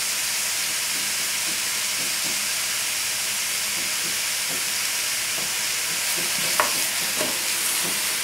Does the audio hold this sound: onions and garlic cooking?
yes